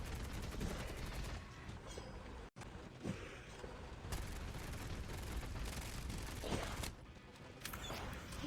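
Automatic gunfire from the zombies mode of Call of Duty Mobile, sustained dense bursts rattling almost continuously for about eight seconds, broken by one brief drop in sound near the midpoint, with no talking.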